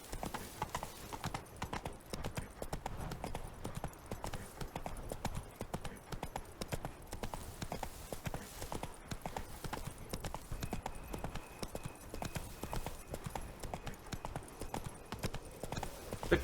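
A horse ridden in The Witcher 3 video game, its hooves clip-clopping in a steady, quick galloping rhythm that runs continuously at moderate loudness, with faint ambient game sound underneath.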